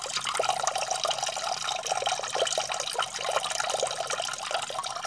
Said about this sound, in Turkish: İçindeki suyu boşaltıyorum.